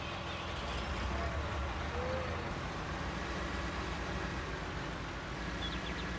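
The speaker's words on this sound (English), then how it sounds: "Get the other planting tractor here rolling a moment." Farm tractor engine in Farming Simulator 19 during corn planting, a steady, dense low rumble that holds constant throughout without pauses, close and even in level, with no speech over it.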